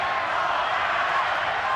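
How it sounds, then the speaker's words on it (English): Boxing crowd in the arena at the Barrera vs Morales III fight, a dense, steady roar of many voices rising and swelling together, loud and continuous throughout with no single voice standing out. "Crowd really getting into it."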